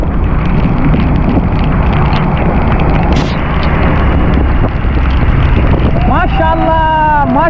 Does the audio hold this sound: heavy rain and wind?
yes